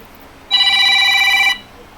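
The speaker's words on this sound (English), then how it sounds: "Uh-oh, my phone's ringing." A phone rings with a single electronic trilling burst lasting about a second, loud and close against quiet background.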